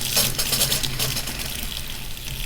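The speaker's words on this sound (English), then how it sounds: "you're going to have that bit of water that's still in the lines just push itself out" Leftover water pushes out of the plumbing lines of a 2021 Wildwood 42FLDL travel trailer during winterizing, a steady close-up hissing gush of water that runs without a break and with no talking.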